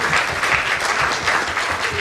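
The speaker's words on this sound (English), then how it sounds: "So, a special round of applause for them again." Audience applause at a reunion gathering honouring performers of a Sanskrit qawwali, steady clapping from a sizeable crowd filling the room, sustained and even throughout without pause.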